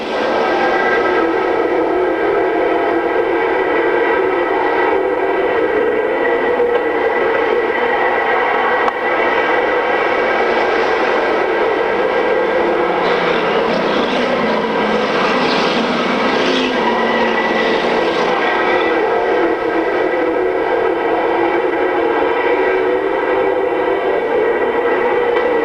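A pack of race cars roars around an oval track, a dense continuous engine drone holding steady with a slight swell as cars pass, loud and unbroken throughout.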